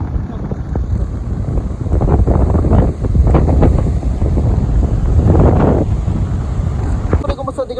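Strong wind in the hills near Ooty buffets the microphone with loud, continuous roaring gusts, and voices talk over it.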